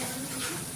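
Masala paste frying in oil on low gas for mutton sukka, giving a steady dense hiss and sizzle at an even level throughout, close and without talk.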